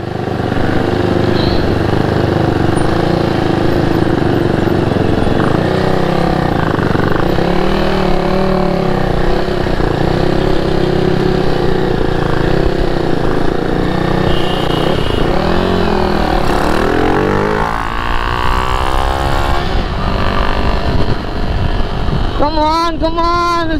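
A Husqvarna 401 motorcycle with its silencer removed runs through an open muffler, loud and close, with a rough, continuous engine roar and a few rising revs toward the end.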